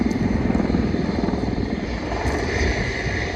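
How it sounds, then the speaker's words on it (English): Mi-24 Hind attack helicopter flying overhead at the Duxford Battle of Britain airshow, a steady loud rotor thump and turbine roar that holds without a break. "as the Hind patrols overhead"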